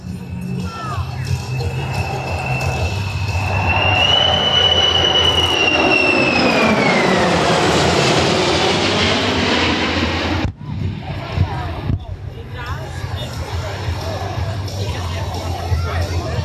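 A Lockheed C-5M Super Galaxy jet makes a flyby at an airshow, its loud engine roar and rising whine swelling as it passes, then fading behind crowd noise.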